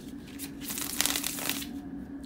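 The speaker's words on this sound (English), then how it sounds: "let me shuffle and see what you got" Tarot cards riffle and slide against each other in a few quick bursts of papery crackling, close by and fairly soft.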